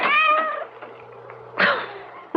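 A cat meows loudly outside a front door at night, two drawn-out, wavering cries with a short gap between them, close and clear, with no talking.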